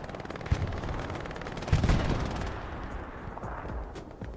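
Bombing run in the Hell Let Loose shooter on the Sainte-Marie map, heard as a dense, continuous wash of gunfire and distant blasts, with two heavier impacts standing out early before the barrage thins into a lower rumble.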